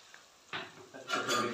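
Cauliflower stirred in a pan with coriander powder, turmeric and salt for a dhaba-style gobhi sabzi, a quiet start followed by two short bursts of scraping and soft sizzle, close by.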